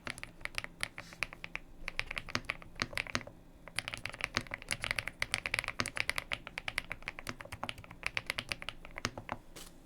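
Fingers type on a computer keyboard in a quick, uneven stream of close, crisp key clacks, pausing briefly now and then, with no voices.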